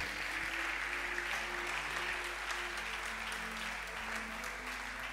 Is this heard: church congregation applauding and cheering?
yes